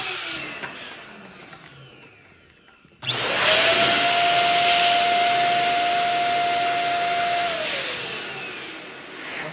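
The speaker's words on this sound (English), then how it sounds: "take your air pump and blow it up first." An electric air pump switches on and inflates a Bobo balloon, a loud steady whirring drone with a sustained hum that runs for about six seconds close by after a quieter start.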